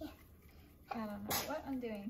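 A single sharp sneeze bursts out indoors while a tree is being decorated for Christmas, landing in the middle of casual speech from a nearby voice.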